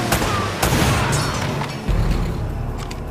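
Gunfire rattles through a firefight in Uncharted: Drake's Fortune, with sharp shots and booming impacts in rapid, irregular bursts that stay loud and dense throughout.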